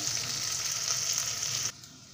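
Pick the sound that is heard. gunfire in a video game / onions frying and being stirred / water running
onions frying and being stirred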